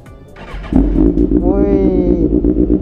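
A motorcycle engine warms up before a night ride, starting faint and then catching with a loud low rumble that settles into a steady idle with a slight rev, close by, while a voice talks over it.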